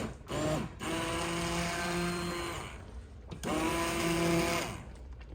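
An immersion blender whirs loudly through homemade keto strawberry preserves in two steady bursts, with a short pause between them and no talk.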